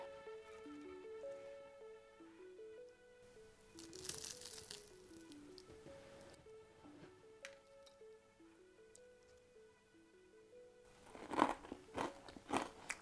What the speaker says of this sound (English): Can you hear the crunch? How crunchy it is.